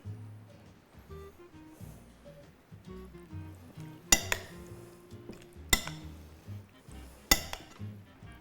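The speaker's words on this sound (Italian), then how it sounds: "Prendo un cucchiaio più grande e comincio a mescolare." Pasta salad stirred with a large spoon in a bowl, giving soft scraping and shuffling sounds with a few sharp clinks of spoon against the bowl, close and moderately loud.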